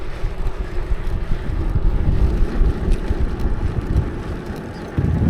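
Strong wind roars and buffets the microphone as a cyclist rides through a sandstorm in Morocco, a loud continuous low rumble with gusty surges and no voices.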